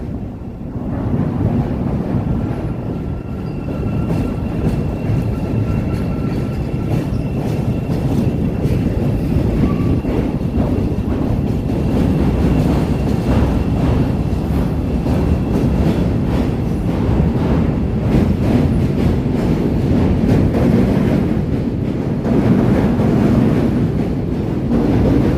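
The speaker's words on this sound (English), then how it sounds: "Here we're going to get the L train going by." A Chicago L elevated train passing along the south branch of the Chicago River in the West Loop, a steady loud rumble and rattle that holds for the whole stretch, mixed with wind buffeting the microphone.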